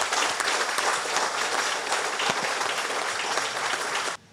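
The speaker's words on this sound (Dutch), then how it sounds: "Laten we een applaus geven aan al die mensen." Audience applause at a Dutch-language ministry handover ceremony, a dense steady clapping from a crowd that holds for about four seconds and then stops abruptly.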